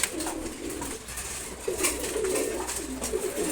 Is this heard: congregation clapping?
no